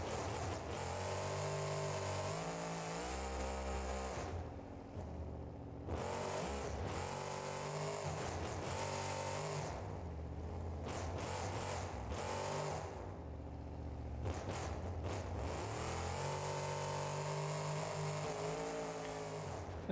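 Monster truck engine driving in the BeamNG.drive game at a stadium, a continuous loud revving drone rising and falling with acceleration, briefly dipping between throttle bursts, with no talk.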